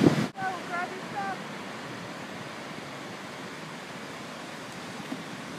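Wind and waves on a cool, windy beach make a steady, even rush of surf and gusting air after a brief bump at the start, with no voices.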